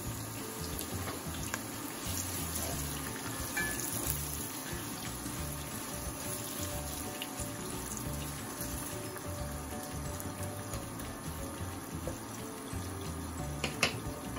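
Steady, even sizzle of onions frying in half a cup of hot oil in a pan, a continuous close hiss with faint crackles and an occasional louder pop near the end, no talk.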